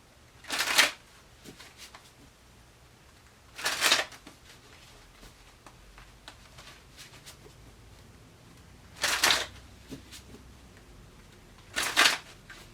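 Tarot cards being shuffled, four separate brief riffling bursts spaced a few seconds apart, close and crisp against a quiet background with no talking.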